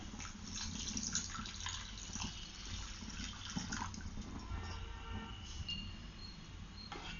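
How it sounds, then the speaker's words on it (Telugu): A faint, steady stream of water pours into a bowl, a soft continuous splashing with a low background rumble. "ఒక గ్లాస్ వాటర్ తీసుకొని దాంట్లో పోయాలి"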